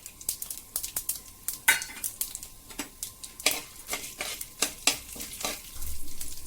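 Mustard seeds, chana dal, urad dal and cumin crackle and sizzle in hot coconut oil in a kadai, with repeated stirring scrapes and sharp pops in an irregular rhythm, close and fairly loud.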